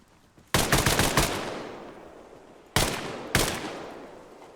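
AK rifle fire in the Arma video game, a rapid burst of close, loud automatic shots followed by two sharp single shots, each trailing off in a long echoing decay.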